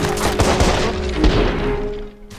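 Shotgun fire in the video game Watch Dogs, a dense rumbling volley of booming blasts that stays loud throughout and fades at the end.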